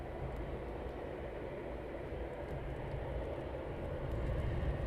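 Eurofighter Typhoon jets starting up at RAF Coningsby, a steady, broad engine roar holding throughout and swelling slightly toward the end, heard from some distance with no voices.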